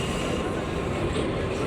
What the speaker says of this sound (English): the New York City subway system is ancient and it's very loud